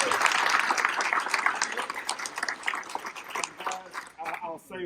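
Audience applause and clapping at a motorcycle ride event, steady and dense throughout, with a voice speaking over it and the claps thinning toward the end.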